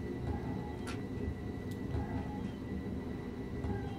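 A Class 377/4 electric train leaving Eastbourne station in Train Sim World 2020, a continuous low rumble with a steady hum and faint intermittent clicks, heard close and at an even level.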